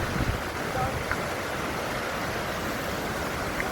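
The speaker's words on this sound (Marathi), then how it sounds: "खळखळते पाणी झरे धबधबे" Gushing water from streams and waterfalls in a green monsoon village rushes continuously as a broad, steady roar with no breaks.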